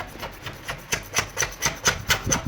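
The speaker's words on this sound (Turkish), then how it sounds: "çok rahat kalçatayla böyle kabuk kabuk soyuyor" Paint being scraped off a marble kitchen countertop, with a steady series of rhythmic rasping strokes, close and fairly loud, about four per second and nothing else over them.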